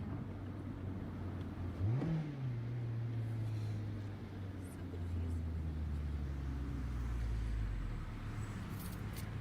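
A manual-transmission car's engine blips sharply upward in revs during a heel-toe downshift, then settles and drones steadily as the revs fall, heard close from inside the car.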